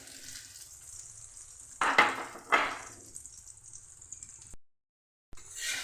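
Bottle gourd and egg omelette batter poured into a hot pan, a soft background sizzle broken by two louder bursts of frying, then a brief silence before the sizzle returns.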